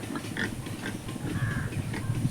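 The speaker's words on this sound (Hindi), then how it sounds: "सुअर पाल रखे हैं।" Pigs kept in a village pen enclosed by iron mesh grunt in low, continuous snorts, close by and steady, with scattered rural background noise and no talking.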